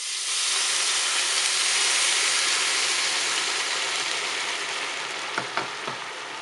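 Vegetable broth poured into rice in a hot pan makes a loud, steady sizzling hiss that eases off slightly over several seconds. A few light clinks come near the end, and no voices are heard.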